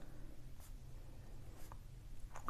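Faint pen or pencil scratching on paper while writing out geometry construction steps by hand, a few soft strokes over a quiet background hum.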